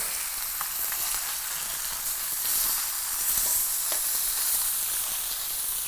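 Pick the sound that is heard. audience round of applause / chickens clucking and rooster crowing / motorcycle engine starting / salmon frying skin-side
salmon frying skin-side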